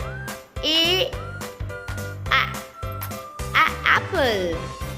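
A cartoon-style duck quack rings out over cheerful music and a child-like voice in a children's alphabet phonics lesson, with short bright bursts repeating through the passage.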